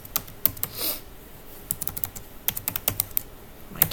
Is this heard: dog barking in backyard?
no